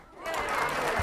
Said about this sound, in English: And I would love a huge round of applause for myself.